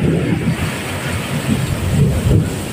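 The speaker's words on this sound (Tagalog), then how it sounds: "Bukod sa may ulan, malakas ang ulan" Heavy rain pours down in a steady, loud roar, with a low rumble under the dense hiss and no voices.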